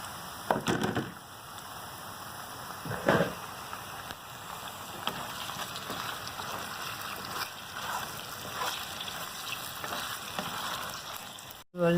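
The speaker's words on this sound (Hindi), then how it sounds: "कलेजी हमने डाली है, थोड़ा सा इसको भुना है" Mutton liver frying in a pan after garlic and ginger, a low, steady sizzle close by with a few louder stirring bursts and a sharp clunk near the end.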